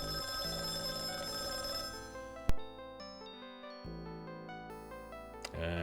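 Synthesized ringing of a telephone in the 1993 computer game Companions of Xanth plays over a sustained electronic music bed, with tones stepping in a steady pattern and one sharp accent partway through.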